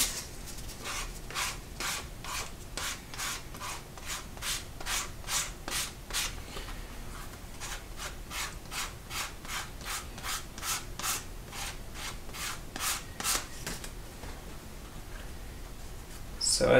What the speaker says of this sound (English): it even starts to burnish the edge a little bit